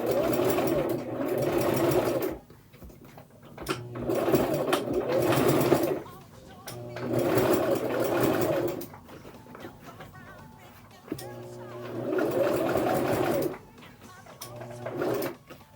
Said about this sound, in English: I'm gonna do a back stitch and a front stitch.